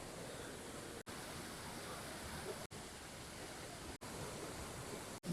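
A steady, dense rush of water from Seetharkundu waterfall near Kollengode, Palakkad, fills the air, continuous and broadband with no voices, broken only by a few brief cuts.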